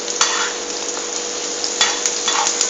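Fish pieces stir-fried Japanese style in a hot pan, a steady loud sizzle broken by several bursts of scraping and tossing as the spatula works the food.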